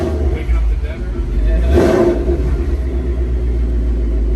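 An 2018-2021 Ford Mustang GT with a CORSA cat-back active exhaust rumbles loudly up close, with a brief rev swelling around the middle of the short clip.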